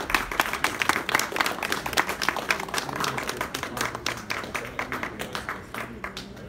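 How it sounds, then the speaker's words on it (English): Audience at a debate on illegal immigration claps to greet a speaker, a brisk burst of applause that gradually thins and fades. "Please give applause for Andreas Kovac."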